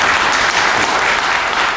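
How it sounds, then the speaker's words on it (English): A crowd claps loudly and steadily, a dense wash of applause that stays close and even throughout. "give yourselves a round of applause for that again"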